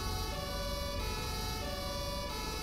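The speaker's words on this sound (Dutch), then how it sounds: "brandweer of ambulance Schiphol heeft een brandweersirene" A fire engine siren at Schiphol airport in the video game GTA 5 wails loud and continuous, a steady tonal blare over low engine rumble with no pauses.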